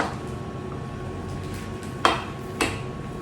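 A spatula scrapes sauce from a pan into a piping bag: low rubbing and scraping followed by two sharp metallic knocks against the rim, close by, with no one talking.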